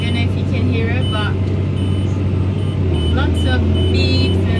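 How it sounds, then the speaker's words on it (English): Loud, steady low engine drone inside a tractor cab, with several short electronic beeps and chirps cutting through the machine noise; speech-like sounds are faintly present beneath the rumble. "lots of beeps and lots of noise because it's a machine"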